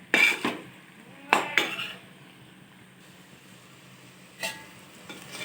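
A spoon scrapes and clinks against a pan while stirring chicken curry masala, three or four sharp metallic strokes spaced apart over a faint background sizzle.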